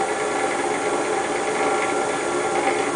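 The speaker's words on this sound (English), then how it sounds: "I'll drill a 1-inch hole in here." A power drill with a 1-inch wood bit bores through a soft metal lid, giving a steady, dense whirring grind that holds at an even loudness from start to finish with no pauses or voices.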